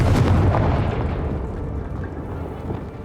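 A Confringo fire spell from the video game Hogwarts Legacy erupts in a single loud, booming blast with a deep low rumble that fades gradually over a few seconds.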